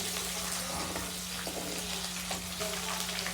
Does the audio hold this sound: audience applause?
no